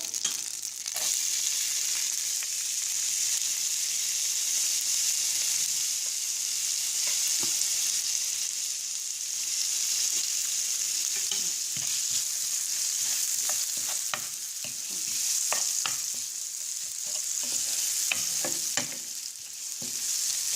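Chopped onion with garlic frying in a pan for mushroom cream escalopes, a dense continuous sizzle with scattered stirring scrapes and clicks, close and steady throughout, with no talking.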